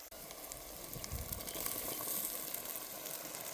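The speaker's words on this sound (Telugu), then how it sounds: "ముందుగా ఉడకపెట్టుకున్న డ్రై మటన్ని మసాలా వేస్తున్నా" Pre-boiled dry mutton sizzles in a pan as it is tossed with turmeric, chili and masala, a constant close hiss and crackle with faint stirring and no talk.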